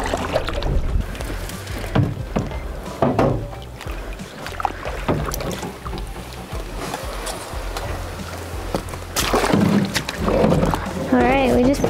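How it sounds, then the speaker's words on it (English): A boat is paddled in to a lake shore at Lake Superior Provincial Park. Irregular splashes and knocks of the paddle come close to the microphone, with voices and wind in the background. "So we're right by the shore, so I'll paddle us in."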